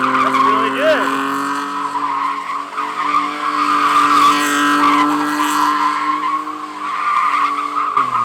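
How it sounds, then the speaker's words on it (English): A car spins donuts on patchy half-wet, half-dry pavement, its tires squealing and skidding in a sustained loud whine over a revving engine, with voices talking underneath. "it's not easy to be doing donuts right here, right now"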